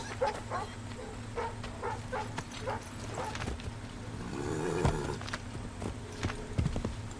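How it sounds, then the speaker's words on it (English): Horse hooves clip-clopping in the Assassin's Creed III video game, a steady run of light hoof beats alongside game ambience with a swelling rush near the end and a few sharper thuds. "There's a horse there."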